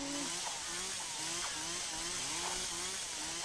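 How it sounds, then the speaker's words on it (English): A chainsaw in the Crazy Killer horror game buzzes in repeated rising revs about every half second, fairly loud and rough over a dense noisy background. "Oh, I hear a chainsaw."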